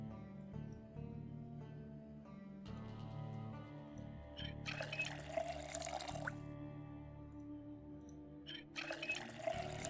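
Water runs in two bursts, filling a container in Project Zomboid (Hydrocraft mod), a steady splashing rush that starts and stops over soft background music.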